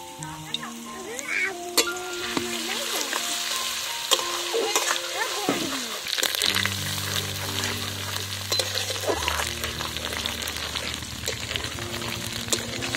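Garlic paste frying in hot mustard oil, a moderate crackling sizzle with stirring scrapes and spoon knocks, while a low steady hum runs underneath.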